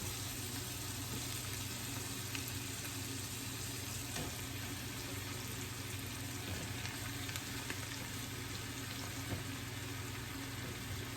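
Mushrooms fry in a pan with a dense, steady sizzle that keeps up throughout, close and fairly loud with no voices.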